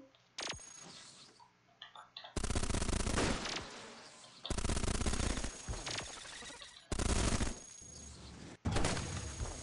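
A behemoth robot firing kinetic weapons in Cogmind: loud bursts of rapid gunfire in several long volleys, broken by short gaps holding faint clicks and small interface blips.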